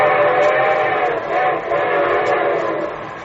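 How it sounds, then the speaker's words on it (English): A train sound effect on a 1949 radio show, a sustained whistle-like horn over rolling rumble, loud and steady before tapering off. "And here comes our star-studded show train."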